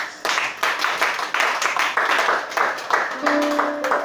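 A church congregation claps in unison, a lively rhythmic run of sharp handclaps filling the space, with a faint sustained tone joining near the end.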